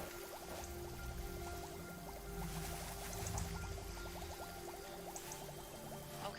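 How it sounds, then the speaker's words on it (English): Water pours onto a plant in a cleaning simulator video game, a soft continuous trickling stream with faint rhythmic bubbling, quiet and steady over low background hum. "And then I'm gonna try and water it again."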